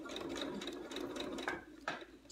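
A sewing machine stitches steadily through the seam of a herbal sachet, a quiet, close, rapid rhythmic whir with a couple of louder clicks near the end.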